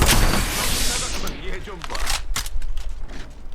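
Rapid bursts of gunfire in Apex Legends, loud at first and then continuing in sharp clustered shots under players talking.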